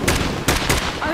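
Rapid bursts of gunfire in a tactical four-player shooter video game, loud and close, several sharp volleys in quick succession over a dense background of battle noise.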